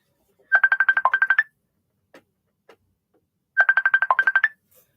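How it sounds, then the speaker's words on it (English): A computer ringtone sounds twice, each a rapid run of bright electronic trills about a second long, separated by silence with faint clicks in between. "Sound like my computer is ringing,"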